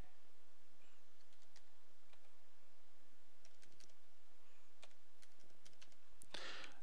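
Faint, irregular keyboard typing at a computer while entering business details online, scattered soft clicks with a brief louder burst near the end, no talk.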